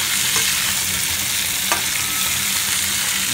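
Spices and aromatics stir-fried in a hot pan for a spicy sweet-sour salted peda fish dish, a steady close sizzle with scraping stirs and one sharp clink, with no talking.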